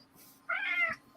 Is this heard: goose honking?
no